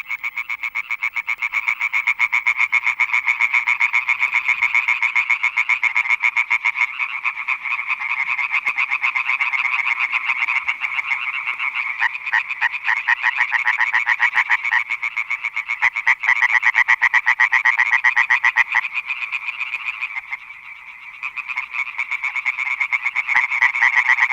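A dense, continuous chorus of tree frogs calling together, loud and close, with rapid overlapping pulsing notes and no voices.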